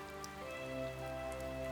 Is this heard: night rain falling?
yes